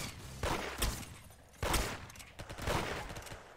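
Gunfire in the Roblox game Arsenal comes as several loud, close bursts of rapid shots in separate volleys, with no talking over them.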